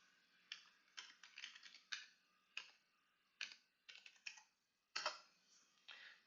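Scattered key clicks on a computer keyboard while typing a password, quick bursts with short pauses, close and quiet.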